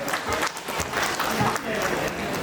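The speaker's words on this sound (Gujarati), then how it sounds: "જોરદાર તાળીઓ નરેશભાઈ માટે" An audience applauds for Nareshbhai at a family community get-together, a dense, steady wash of clapping from many hands that keeps going at an even level for the whole stretch, with faint voices mixed in.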